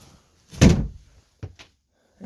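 A camper door on a Heartland Pioneer BH270 travel trailer swings shut with one loud close thud, followed by a pair of fainter latch clicks and knocks, heard close up with no talking.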